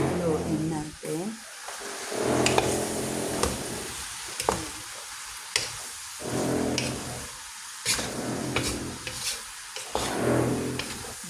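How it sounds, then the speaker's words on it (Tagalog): Ampalaya (bitter gourd) and egg stirred in a pan, with repeated scraping and sizzling strokes coming in bursts over a steady hiss of frying, close and moderately loud. "Tapos haluin natin."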